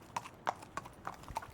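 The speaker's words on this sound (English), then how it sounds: "a conveyance bringing sick people to the hospital using a horse-drawn carriage" Horse hooves clip-clop in a steady walking rhythm, five distinct hollow strikes spaced evenly, fairly faint with a quiet background, as a horse pulls a carriage.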